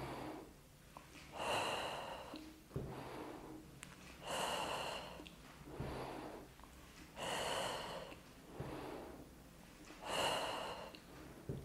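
Deep, slow breaths drawn in and pushed out during a pregnancy leg-slimming exercise session, four or five long audible cycles in a steady rhythm, close and clear with no talking.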